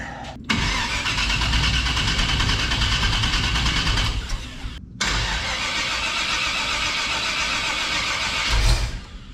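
A 1930 Ford Model A hotrod engine cranks and fires up, settling into a loud, steady, rough running note close by, with a brief drop in the middle before it catches again and keeps running.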